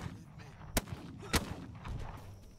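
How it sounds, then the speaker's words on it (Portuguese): Gunfire in the video game This Land Is My Land: a few sharp, widely spaced shots ring out loud and near over a low murmuring background. "Eles vão ficar atirando em mim e não vai me acertar."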